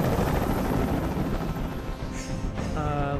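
A helicopter hovers in Detroit: Become Human, its loud, constant rotor wash roaring throughout while a faint voice briefly sounds near the end.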